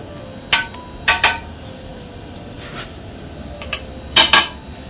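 A utensil stirring ponzu sauce in a pot strikes the sides in several sharp metallic clinks, some in quick pairs, over a quiet background hum.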